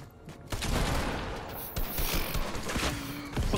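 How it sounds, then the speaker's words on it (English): Pumpkin launcher fire in Fortnite, a busy burst of explosive thumps and mechanical clatter in rapid succession, loud and dense, with no speech. "All I hear is pumpkin launchers."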